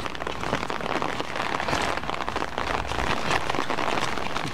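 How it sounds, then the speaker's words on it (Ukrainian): Light rain falls steadily on the surfaces of a road in Slavuta, a dense, even patter of drops that holds at a constant level for the whole stretch with no voices. "15 хвилин дощ слабенький."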